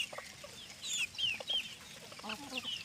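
Rooster and hens on a farm cluck in short, irregular bursts of moderate loudness, with a faint chirpy background and no talking.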